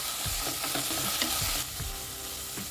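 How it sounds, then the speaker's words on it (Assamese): Ginger-garlic paste frying with golden-browned onions in a pan, a steady close sizzle with repeated scraping stirs of a spoon against the pan bottom, no voices. "এইখিনি 3 মিনিটমান ফ্ৰাই কৰিম"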